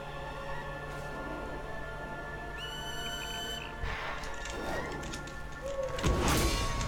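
Birds flung at enemies in the World of Warcraft video game, heard as bright whistling bird calls and cries with a crash near the end, over a steady hum of game ambience.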